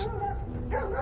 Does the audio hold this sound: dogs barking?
yes